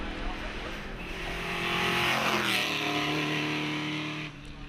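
A 4.7-litre Shelby Mustang accelerates hard up the Shelsley Walsh hillclimb, its loud V8 roar rising steadily as it pulls away and fading slightly at the end, with no talk over it.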